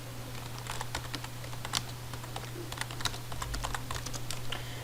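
Keys clatter on a computer keyboard in quick irregular bursts, close and fairly quiet, with no talking.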